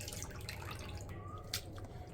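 Grated potatoes are rinsed in a bowl of water to wash out the starch, giving soft sloshing and dripping with a brief splash, close and quiet, with no talking.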